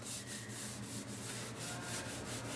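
Sponge wiped across fresh grout on a glass tile backsplash, a faint, continuous rubbing swish in repeated strokes under a steady hissing background, with no voices.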